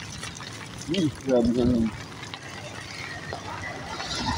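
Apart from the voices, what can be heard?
rain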